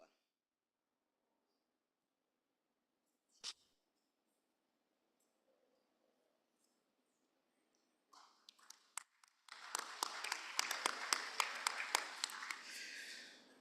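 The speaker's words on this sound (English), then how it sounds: "That clap signifies that there is no objection." Committee of Experts meeting of African ministers: after near silence and a lone knock, a round of clapping breaks out from delegates in a conference hall, rising into dense steady applause.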